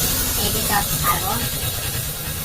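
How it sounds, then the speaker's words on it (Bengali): Chops and other battered snacks drop into hot frying oil at a street food stall, giving a loud, steady sizzling hiss close by while a voice talks over it. "এই যে চপ ছাড়বো"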